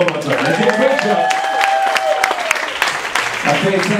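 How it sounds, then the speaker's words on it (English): Audience applause at a costume contest event, a scattered round of clapping beneath a voice speaking over it, fairly steady from start to finish. "Please give him a nice round of applause one more time."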